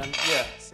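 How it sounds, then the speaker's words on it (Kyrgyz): A metal plate scrapes and clinks against the inside of a pilaf cooking pot, a short close metallic ring that fades quickly. "табакты алып таштайлы"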